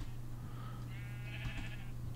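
A sheep bleats in a blocky survival video game, one drawn-out wavering call near the middle over a steady low hum of game background, with no talking.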